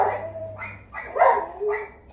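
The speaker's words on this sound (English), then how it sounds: "They just like barking so much, and it annoys me because they barking" Several dogs bark at one another close by: four or five sharp barks and yips in quick, uneven succession, loud and alone without talking.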